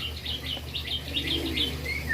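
Bar-winged prinias in an aviary chirp repeatedly in quick, high twittering notes over a steady low hum, close by and fairly clear.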